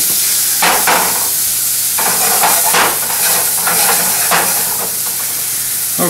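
A salmon fillet sizzles loudly in a non-stick pan after being flipped, a dense hissing fry with several sharper bursts of spatter and scraping from a non-stick tool, close and steady throughout.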